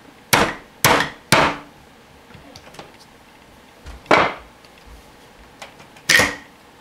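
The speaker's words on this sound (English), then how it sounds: "take a 1/4 inch wooden dowel and a rubber hammer and just give it a couple taps" Rubber hammer tapping a 1/4 inch wooden dowel to drive the housing out of a Ruger 22/45 Mark III pistol: three quick sharp taps, a pause, then two more spaced taps, close and clear with no talking.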